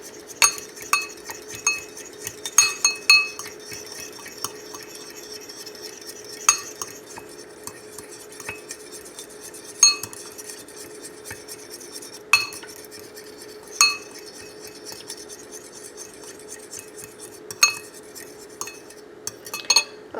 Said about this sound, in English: So now I'm just going to go ahead and whisk this up.